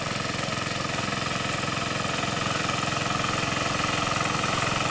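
A mower engine drones steadily while mowing a golf course under renovation, a continuous mid-pitched motor hum with even vibration, moderately distant and without speech.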